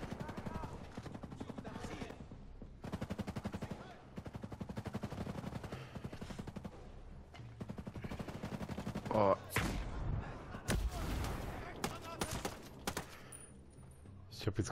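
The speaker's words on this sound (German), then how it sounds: "hier bei mir ist so ein riesen Kanone" Heavy booming gunfire and explosions from a large cannon in Ghost Recon Breakpoint, with rapid bursts and loud blasts clustered toward the end.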